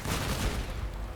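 Dense, continuous gunfire from vehicle weapons in the Crossout combat game, a rapid overlapping barrage of shots with booming low end, loud and unbroken throughout.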